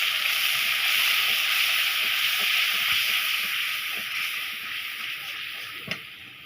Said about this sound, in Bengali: সামান্য পরিমাণে পানি দিয়ে দিব যেন মশলা পুড়ে না যায়।